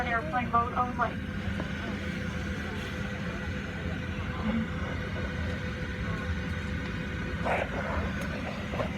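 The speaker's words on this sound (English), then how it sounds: "So we are on the airplane." Steady low engine and ventilation hum fills a parked airliner cabin at the gate, with faint chatter and small clatters over the drone and muffled voices throughout.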